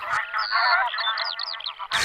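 Geese honking over the flooded Pripyat floodplain, a busy chorus of overlapping nasal calls from a flock, fairly close and continuous, with a brief gap near the end before the calls resume.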